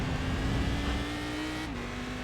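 A Cadillac CTS-V race car engine in the iRacing sim holds a steady high drone, then drops sharply in pitch as it shifts near the end, with no voices.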